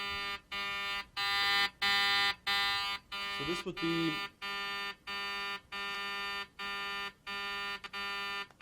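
A mixture of synthesized tones plays as a loud pulsing alarm-like chord, switching on and off in a regular rhythm about once a second, with a brief burst of someone speaking partway through.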